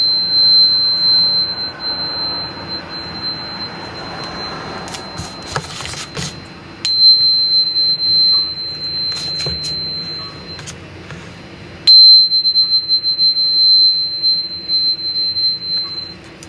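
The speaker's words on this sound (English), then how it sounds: "So I also am going to cleanse them with my tuning fork." A tuning fork used to cleanse tarot and oracle cards rings as a steady, piercing pure tone, loud and close, sounding in long sustained stretches with brief breaks and soft handling noise underneath.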